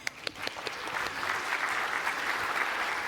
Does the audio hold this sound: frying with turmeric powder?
no